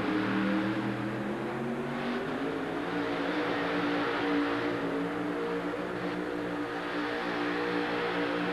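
1990 GMC monster truck engine held at full throttle in a stadium, a loud, steady, droning roar that stays level throughout, with no voices heard over it.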